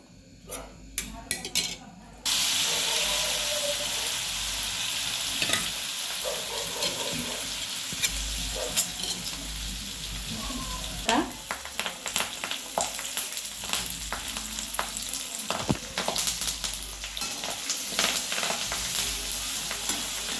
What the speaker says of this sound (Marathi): ह्याला आपण छान भाजून घेऊया